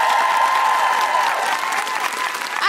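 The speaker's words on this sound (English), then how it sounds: "A big round of applause" Audience at a live recording of a women-in-science discussion show breaks into loud, sustained applause, a dense even roar of clapping throughout with a few faint cheers.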